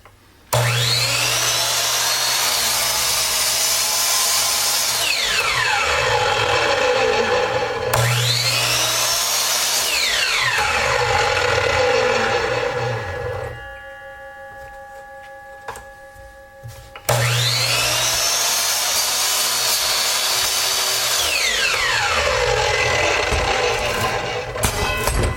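A WEN 10-inch sliding compound miter saw slices through scrap flooring with a new carbide blade, three loud whining cuts with motor spin-up and wind-down, a brief quieter lull with a ringing hum between the second and third cut.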